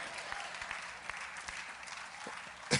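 Audience at a live-streamed sermon clapping, a steady patter of many hands of moderate loudness for a few seconds, with one sharper clap at the end.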